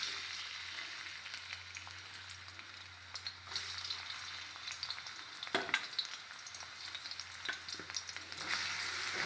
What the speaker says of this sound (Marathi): कांदा छान तेलामध्ये परतून घ्यायचं